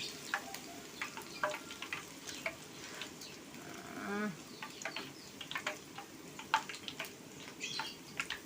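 Black soybean peyek crackers fry in hot oil with a steady, soft sizzle and bubbling, punctuated by faint clicks and splashes as oil is ladled over them, close but fairly quiet.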